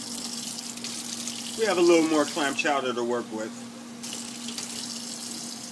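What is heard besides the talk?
rinsing clams under running tap water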